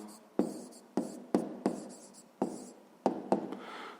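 Pen strokes scratch across paper in short bursts of handwriting as a number sequence is written down, each stroke starting with a sharp scrape and fading, close and alone with no talk.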